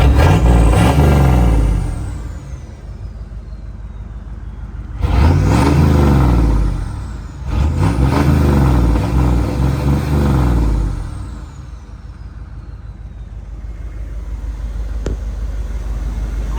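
A diesel Ford Highboy truck engine, out in the snow, revs loudly up close in three long surges with throaty rumbling, each easing back to a steadier idle between bursts and again at the end.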